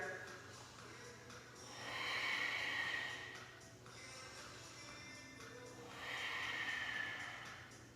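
Slow, audible yoga breaths come close to the ear, two long airy exhalations a few seconds apart with quieter gaps between, soft and breathy against a faint low hum.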